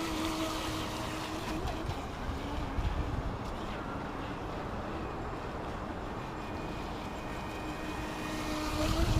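A steady motor drone from a 17-inch UDI Xiphactinus RC boat over churning water, holding an even whine throughout with a slight swell near the end; no voices.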